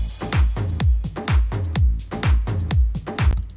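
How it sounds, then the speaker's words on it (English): A crash cymbal sample plays inside a dance bootleg track, landing in a steady repeating pattern of loud, bright hits about twice a second over punchy beats, with no talking. "And for this, I'm using a sample of a crash."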